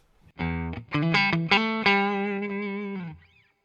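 An electric guitar, a Harley Benton Telecaster through a Hot Rod amp, plays a short run of notes that rings out and fades with a reverb tail, heard alone.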